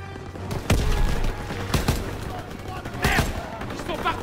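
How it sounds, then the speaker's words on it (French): Gunfire bursts in a Call of Duty WW2 game battle, with a machine gun firing from a staircase, sharp repeated shots over steady background battle noise and a voice speaking French. "Mitrailleuse dans l'escalier."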